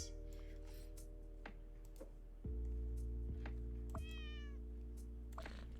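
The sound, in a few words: cat meowing in a video game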